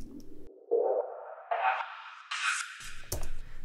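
A sparse beat with just a touch of delay, played as a few distinct synth notes stepping upward in pitch, with brief echo tails and a low hit near the end, dry and clear with no talking.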